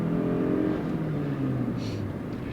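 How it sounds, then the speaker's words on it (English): A Toyota Crown Signia hybrid with a CVT runs at full throttle, giving a steady, thrashy engine drone that holds at one pitch rather than climbing through gears, loud and continuous throughout. "Typical Toyota thrashing noise."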